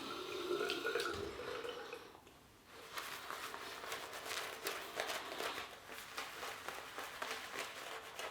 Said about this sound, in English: Right, bit more water to the brush.